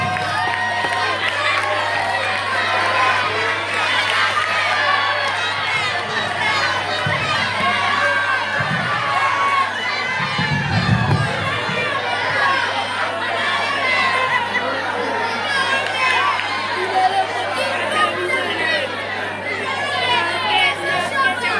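A school audience at a cultural day event cheers and applauds, a dense crowd of children shouting and chattering steadily throughout, loud and continuous with a steady low hum underneath.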